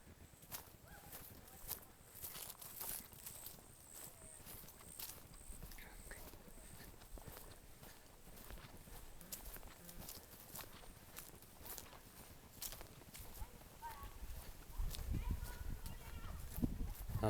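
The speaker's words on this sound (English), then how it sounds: "Sounds to me like they took off on the horses." Horses walk along a nature trail near a campground in a state park, hooves clip-clopping faintly in the distance, with faint voices and outdoor ambience around them.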